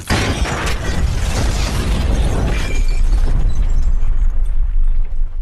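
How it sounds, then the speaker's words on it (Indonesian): A house explodes with a loud, rumbling burst, followed by a sustained roar of debris and crackling that slowly thins toward the end. "dia bergegas meninggalkan tempat itu dan rumah itu meledak"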